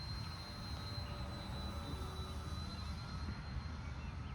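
An RC airplane motor on a Skyward 25 model running below half throttle gives a steady, continuous droning hum with a faint high whine, holding even throughout without talk.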